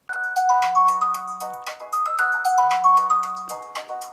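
An incoming-call ringtone plays on a Blackview Hero 10 flip phone, a bright melodic chime phrase repeated twice with a low tone under each, loud and close with no talking.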